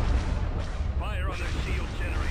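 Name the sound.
weapons fire striking a ship hull, Star Wars: Empire at War video game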